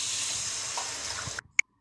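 Water splashes steadily into a cooking pot for rice for jackfruit biryani, a close continuous pour that stops abruptly, followed by a single sharp clink.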